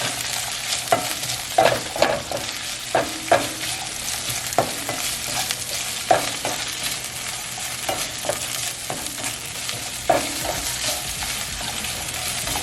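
Onions fry in oil in a pan for chile and chicken strips, a steady sizzle broken by a dozen or so brief stirring scrapes at irregular intervals, close and fairly loud, with no voices.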